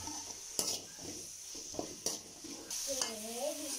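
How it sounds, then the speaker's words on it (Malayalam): Onions or similar being sautéed in a pan with salt and turmeric for beef perattu, with scraping stirs and clinks of a spoon against the pan over a light sizzle; a voice hums briefly near the end. "എന്നിട്ട് ഇത് നന്നായിട്ടൊന്ന് വഴറ്റിയെടുക്കാം."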